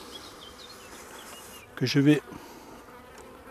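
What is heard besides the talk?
honeybees buzzing as beekeeper shakes them off frame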